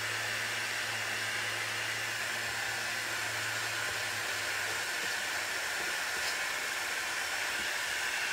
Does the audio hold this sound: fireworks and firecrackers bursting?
no